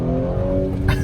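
An Audi B9 exhaust drones steadily under acceleration, then a brief, sharp crackling pop bursts out near the end, loud and close.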